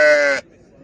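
Sheep or lamb bleats loudly and close for under half a second at a livestock market selling sheep, goats and cattle, then only faint background noise follows.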